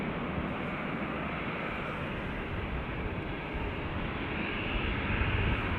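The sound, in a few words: ATR turboprop airliner arriving from Donegal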